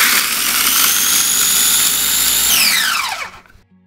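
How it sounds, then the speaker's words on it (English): Food processor grinding freeze-dried strawberries into powder for a strawberry cake: a steady, loud high whirring motor roar for a few seconds, then a falling whine as the blade spins down and stops into silence. "Add these to our food processor,"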